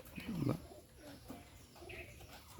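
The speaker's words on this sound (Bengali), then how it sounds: "অনেক সুন্দর একটা কবুতর দেখুন" A Bombay pigeon gives a low, soft coo up close, followed by quieter murmuring calls against faint background noise.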